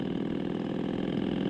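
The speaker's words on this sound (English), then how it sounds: "the engine is running compression like it should" Harley Davidson motorcycle engine running smoothly at idle, a steady close rumble with an even low throb and no voices.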